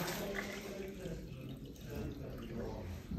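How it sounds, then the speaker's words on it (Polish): Water is poured into a small glass topped with toilet paper, filling it to the brim. A steady, soft trickling hiss runs the whole time at close range, with no talking over it. "Dolewamy wodę do pełna."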